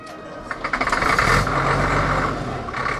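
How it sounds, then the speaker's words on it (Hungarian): A restored tractor's diesel engine starts after glow plug preheating, cranking briefly, then settling into a loud, steady close-up running rumble. "Rövid izzítás után indítható a motor."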